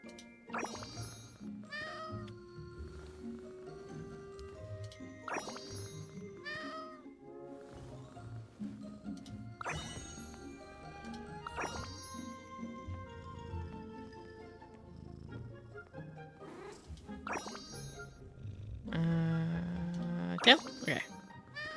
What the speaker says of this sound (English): This cat is named Dopey.